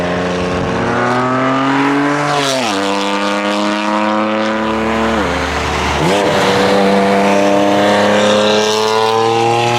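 A straight-piped 2016 BMW M3 with the S55 engine revs loudly and close, its exhaust note climbing and dipping through several throttle blips over a steady, raspy idle.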